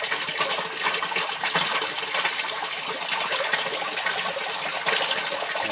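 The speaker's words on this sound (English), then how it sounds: "We're getting some more drips. There it goes." Water runs and trickles steadily in a home-built aquaponics system, a continuous broad splashing gush with drips mixed in, fairly close and alone without talk.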